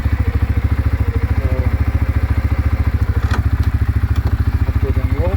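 A 2021 CFMOTO CFORCE 400S ATV runs in wet snow, its engine throbbing in a loud, steady, rapid pulse close by, with a voice briefly heard under it.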